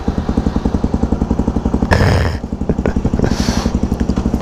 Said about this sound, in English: Turn this sucker back on.